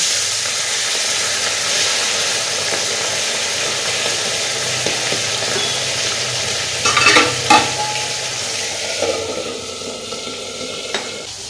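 Large pieces of rohu fish fry in hot oil, giving a continuous loud sizzle with a few louder spattering bursts and scraping stirs toward the end.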